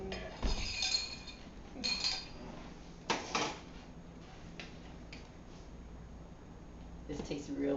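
A metal spoon clinks against a bowl of avgolemono soup in a home kitchen, a few sharp close taps and scrapes spaced apart, with people talking around them.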